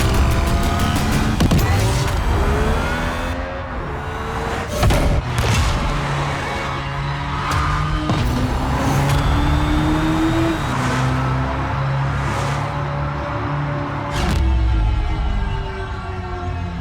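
A Hyundai IONIQ 6 N high-performance car produces a loud roaring drive sound, with rising and falling tones and sharp shift-like bursts over about seventeen seconds.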